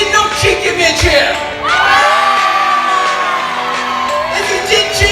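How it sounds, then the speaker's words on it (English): A live stage-show audience cheers, whoops and shouts together in a loud, continuous burst that carries across the whole moment, with children's voices audible in the din. "If he did not cheat, give me a cheer!"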